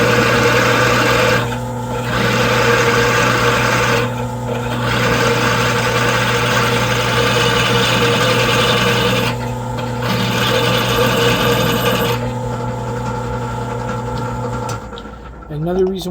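A drill bores slowly into the axle of an ebike hub motor, grinding with a steady, loud whine that pauses briefly several times and stops near the end.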